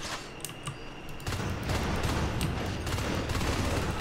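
Rapid automatic gunfire from the sci-fi shooter Natural Selection 2, starting with a few scattered shots and then a dense, loud sustained burst of continuous firing through the rest of the stretch.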